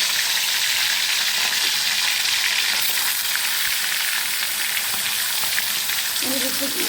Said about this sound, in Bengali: মাছ ছেড়ে দেবো তেলের মধ্যে